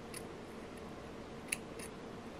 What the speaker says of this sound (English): I will cut with the scissors